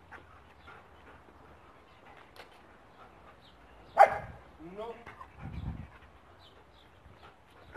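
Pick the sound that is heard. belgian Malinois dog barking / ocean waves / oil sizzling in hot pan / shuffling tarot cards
belgian Malinois dog barking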